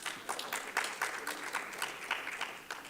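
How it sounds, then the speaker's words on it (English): Light, quiet clapping rises during a city council meeting as the Dodgers are applauded, a loose scatter of claps from a small audience that stays faint and somewhat distant. "let's give them a round of applause for the Dodgers"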